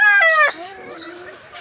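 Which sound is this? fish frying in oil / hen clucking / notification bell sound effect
hen clucking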